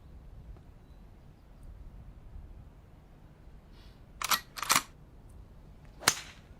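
A golf club strikes the ball for a high fade shot. After a quiet stretch come several sharp, loud cracks in close succession.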